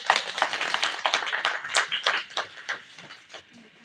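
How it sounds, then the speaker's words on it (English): A conference audience claps during a felicitation of the conference chair at an IEEE valedictory session. The applause is brisk and dense and moderately close, with individual claps audible, and it thins out over a few seconds. "Use round of applause."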